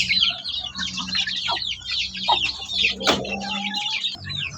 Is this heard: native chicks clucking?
yes